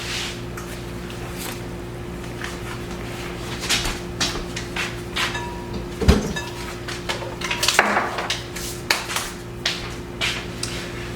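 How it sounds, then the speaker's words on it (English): Scattered knocks, clunks and scrapes of a blender being shifted across a kitchen countertop, with a couple of louder thumps midway. "Let me move my blender."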